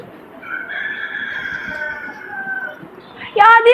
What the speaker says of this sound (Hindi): आधी रात को कौन सा मुर्गा बोलता है